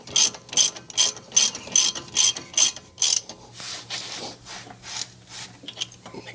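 A ratchet wrench tightening bolts during an axle replacement on a VW Jetta, about eight sharp rhythmic clicking strokes up close, then softer, slower ratcheting rubs.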